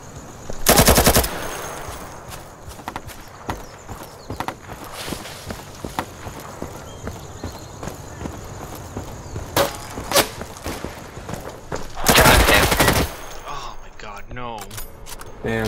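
Gunfire in the video game Insurgency on the Panj map: two loud bursts of automatic fire, one near the start and another near the end, with sharp single shots between them, plus scattered clicks and footsteps under a voice.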